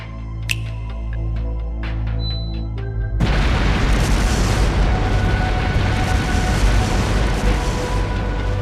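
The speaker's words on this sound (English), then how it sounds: "Explosive artifacts!" Video game explosions from explosive artifacts scattered through a palace: a sudden loud blast erupts after a few seconds into a sustained, rumbling roar of noise that holds steady to the end.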